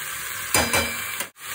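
Spinach chorchori cooks in a home kitchen pan, giving a soft steady sizzle with a couple of stirring scrapes and a brief clatter of the pan.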